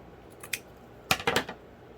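Scissors trim a handmade junk-journal card in a few close, crisp snips: one faint cut, then a quick cluster of sharp blade crunches in a quiet room.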